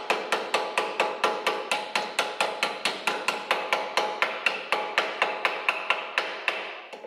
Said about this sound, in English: We're going to just use a copper hammer on the back.